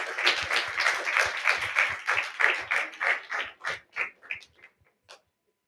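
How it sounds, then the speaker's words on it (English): Audience applause for an organization's executive committee at a community cultural event, a dense round of clapping that gradually thins into a few scattered claps and stops. "So can we give them another big round of applause"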